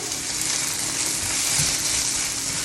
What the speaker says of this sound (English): our onions are cooking low and slow